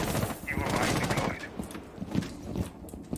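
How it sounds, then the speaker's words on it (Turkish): Gunfire from a Rainbow Six Siege match, sharp shots and bursts popping through a busy mix of footsteps and game noise, with a voice talking over parts of it. "Dur lan atış var beyler"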